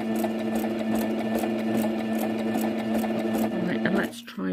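A Singer Starlet 6680 sewing machine stitches fabric with a close, steady motor hum and rapid needle chatter, running continuously before stopping abruptly near the end.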